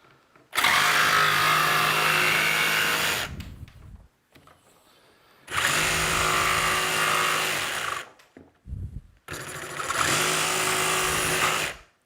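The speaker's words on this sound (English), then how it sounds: "I try not to talk while the power tools are going" A power tool whines loudly in three long runs, each stopping abruptly, with quiet gaps in between.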